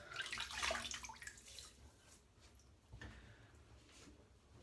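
Faint splashing of water as a hand scoops it to wet the face before a shave, a brief burst of sloshing at the start that fades to quieter trickles, close but low in level.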